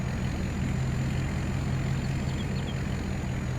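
Steady low rumble of a truck engine in Farming Simulator 22, loud and continuous with a thin high whine running above it, no talking.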